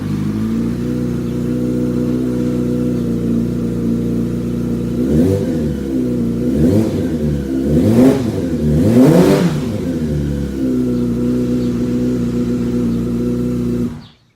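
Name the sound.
2005 Yamaha R6 motorcycle engine running and revving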